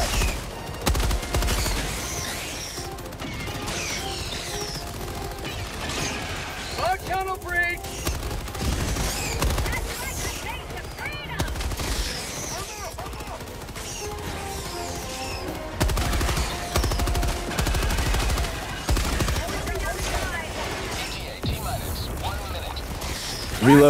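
A big gun in Helldivers 2 fires in long, loud bursts of rapid shots with crashing impacts and explosions, nearly continuous over the stretch, with game voice callouts mixed in.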